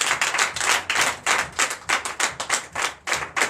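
Sunday church congregation in Benin clapping loudly in a quick, rhythmic pattern, sharp unison claps in close repeated bursts with brief gaps between groups.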